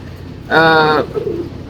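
A single short, loud coo from a sick pigeon under treatment rings out for about half a second, followed by faint low murmuring.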